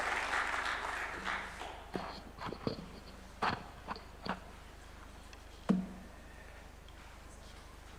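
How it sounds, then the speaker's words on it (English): An audience at a formal launch event in Kenya applauds as a speaker walks to the stage. The applause is a brief, soft burst that quickly thins into a few scattered, isolated claps in a quiet hall. "Let's give him a clap as he approaches the stage."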